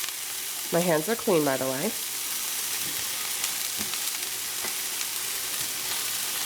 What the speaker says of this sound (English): Mainly I want to get pretty much all of the ham and apples in real quick.